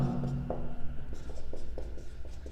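Chalk or marker scratching on a board during a physics lecture, a run of short irregular strokes and taps close to the microphone, with a faint low hum underneath and no speech.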